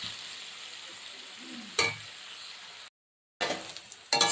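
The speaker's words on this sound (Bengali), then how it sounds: "এমনি করে নেড়ে নেব বেশ কিছুটা সময় ধরে" Tomato, eggplant and potato frying in a pan with green chillies, a soft steady sizzle broken by a few sharp scraping strokes of stirring, a brief silent gap, then louder clattering stirs near the close.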